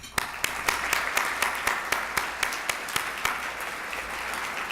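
An audience at a women business leaders forum claps for network members, a steady round of applause with a few sharper, closer claps standing out from the crowd.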